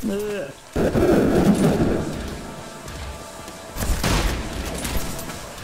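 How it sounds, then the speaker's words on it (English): Bursts of gunfire from shooting at an enemy in the video game Trepang2, loud rapid volleys followed by a later second burst, with a player talking between the shots. "Just taking pop shots at him"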